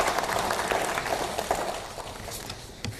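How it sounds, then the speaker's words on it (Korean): Lawmakers at a party caucus meeting in Korea give a round of applause, a fairly quiet, somewhat distant burst of clapping that gradually thins out. "박수 한번 주십시오."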